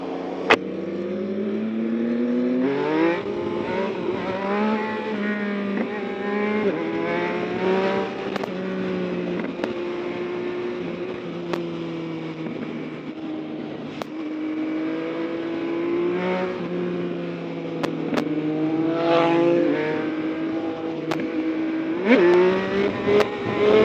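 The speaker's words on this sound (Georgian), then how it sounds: "Yamaha საღოლ რა ძალიან მაგრად გამოასწორეს ეს ძრავი" A Yamaha MT-09 naked motorcycle engine revs and pulls while riding, rising and falling through gears with steady tonal drone, heard close up with wind buffeting.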